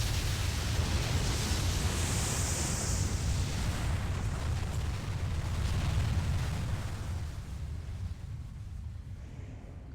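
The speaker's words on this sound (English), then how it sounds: "Oh, I was expecting an explosion. It's more of a fire breath." Fire breath attack in the PS3 game Eternal Sonata: a loud, roaring rush of broadband noise sustained for several seconds, like a gust of flame, slowly fading and thinning toward the end.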